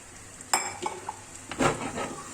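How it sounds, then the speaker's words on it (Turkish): Tomato paste sauce for islim kebab poured into a hot frying pan, giving a few short, close bursts of sizzling and spattering with faint utensil clatter. "Salçalı sosumu dökeceğim üstüne."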